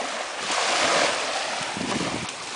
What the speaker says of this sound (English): Get that ocean. It's a bad ocean.